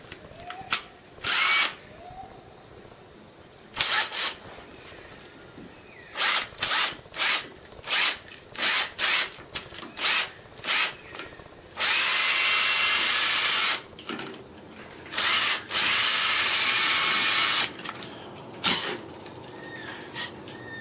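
A power drill bores a 12 mm hole lengthwise down the center of a carrot, close and loud, in repeated short bursts and then two longer sustained runs, with quiet pauses between.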